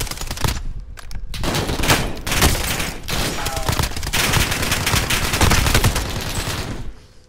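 Sustained heavy gunfire from a shooter video game, a dense, loud barrage of rapid shots with brief gaps that continues almost to the end before cutting off.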